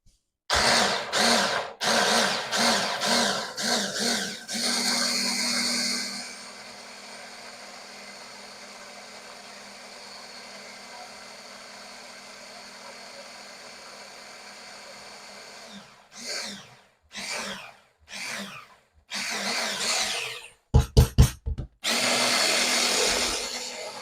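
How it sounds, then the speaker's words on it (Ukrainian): A power motor whirs in short bursts, then runs in a long steady drone before pulsing again in brief spurts, like a blender blending a pomegranate sauce. "Ми це все зіб'ємо в блендері, щоб було пошвидше."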